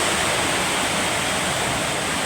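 Heavy nighttime rain pours down in Dasmariñas, a dense, steady roar of water that never lets up, with no distinct thunderclap in this short stretch.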